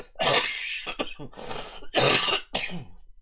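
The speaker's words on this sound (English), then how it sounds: "pardon me, coughing lung up here." Someone coughs and clears their throat several times close up, in harsh rasping bursts separated by brief pauses.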